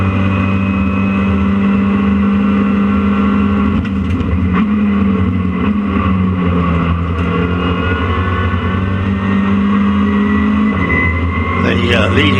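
Race cars at Donington circuit, including a Mazda MX-5, Honda Civic and Caterham, roar past in a continuous loud engine drone that rises and shifts in pitch, with several cars passing close in succession.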